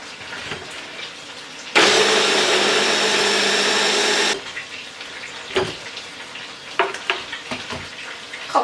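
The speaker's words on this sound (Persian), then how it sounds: "الان میذارم با این غذاساز تا حسابی خرد شه" Onions chopped in a food processor for a chicken fesenjan walnut stew: a loud, steady motor whir lasts about two and a half seconds, followed by scattered kitchen clatter and knocks.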